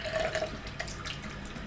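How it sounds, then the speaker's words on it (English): Warm water runs steadily from a tap for bathing a bantam chick, a faint continuous splashing stream with small trickling variations and no talk. "We've got the warm water all running in"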